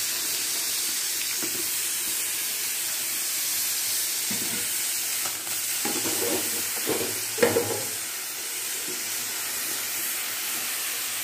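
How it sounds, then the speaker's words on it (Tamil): Fish fries in a pan on a home kitchen stove, giving a soft, steady sizzle with a few louder spits and crackles near the middle and no talking. "மீன் பொரிக்கணும், மீனை பொரிச்சு எடுத்துடலாம்."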